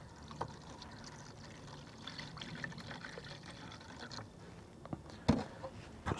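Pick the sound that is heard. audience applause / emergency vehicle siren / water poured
water poured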